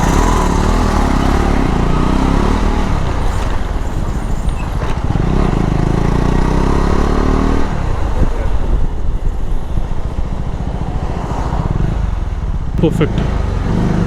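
A KTM 390 Adventure motorcycle engine drones steadily while riding, a continuous close road-and-engine rumble with wind, and someone speaks briefly over it.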